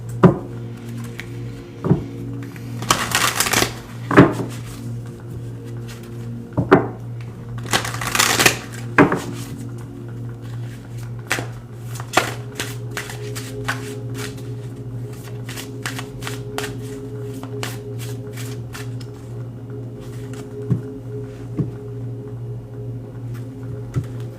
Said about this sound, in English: let's pull a card here for advice